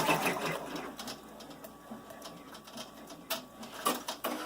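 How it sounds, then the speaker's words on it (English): An embroidery machine stitching felt fabric down in the hoop, giving a steady fast mechanical needle rhythm with small clicks, moderately close and alone. "So we can see that it's tacking down that felt fabric very nicely."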